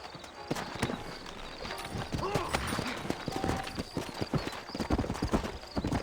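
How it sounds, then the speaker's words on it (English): In the video game Red Dead Redemption, horse hooves clip-clop steadily at an unhurried pace, close by, with a brief whinny and someone speaking over the hoofbeats. "You ain't gonna find sturdier horses than these in all of New Austin."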